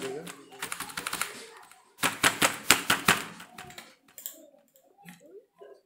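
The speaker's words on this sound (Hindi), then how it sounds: "वॉलेट पिन टाइप कर लीजिएगा।" Keys are typed on a computer keyboard to enter a wallet PIN, quick bursts of clicking in two runs, then a few scattered taps, with a voice talking at times.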